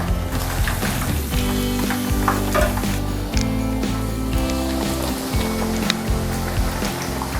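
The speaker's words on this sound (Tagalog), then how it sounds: "Tapos na tayo magprito. So, ito na yung pinaka-last natin na pinrito." Chicken pieces deep frying in hot oil, the last batch of a salted egg chicken dish, give a steady, loud, dense sizzle and bubbling that runs throughout with no speech.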